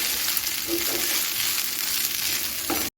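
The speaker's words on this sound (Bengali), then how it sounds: "আমি চিরাটা দু মিনিট ভেজে নেব" Chira, flattened rice, frying in ghee on a low flame, a loud steady close sizzle with faint stirring scrapes throughout, cutting off abruptly at the end.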